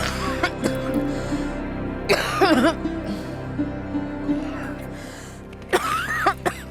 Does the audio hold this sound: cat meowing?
no